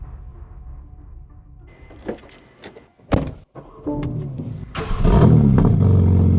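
A rebuilt BMW M3 engine starts on its first drive, with a few sharp thunks and clicks before it catches, then a loud, sustained rising rev close by.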